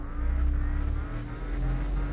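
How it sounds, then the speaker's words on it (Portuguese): A Ford Mustang with a sport exhaust revs close by, its deep throbbing engine note rising and falling in a steady low rumble throughout. "Meu carro tá com escape esportivo, cara, ó."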